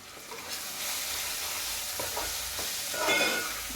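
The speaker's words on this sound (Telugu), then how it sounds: "మనకి ఈ మసాలా అనేది ఫ్రై అయిపోయింది కదా" Masala with turmeric fries in a pan for a fish curry, a soft continuous sizzle broken by a few scraping stirs of a spoon, close up and moderately quiet, no talking.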